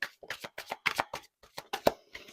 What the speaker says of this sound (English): I just have to be very intentional about how I shuffle.